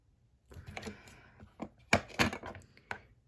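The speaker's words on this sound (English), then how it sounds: "So I'm scratching a little hole in the middle because apparently this is harder than expected" An X-Acto knife scratches and scrapes at a plastic loose-powder jar, a handful of short, dry, close-up scraping strokes in irregular bursts with quiet pauses between them.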